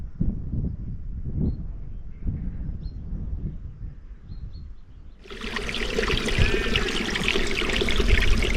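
Water trickles and splashes in a mountain stream on Moel Hebog in Wales, a soft low wash that suddenly swells into a louder, brighter, steady rush up close.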